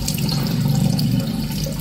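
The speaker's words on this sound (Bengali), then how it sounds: "এবার আমি মুখটা ভালো করে ধুয়ে নেবো" Tap water runs steadily into a sink while someone washes their face, a continuous close rushing splash with no talking over it.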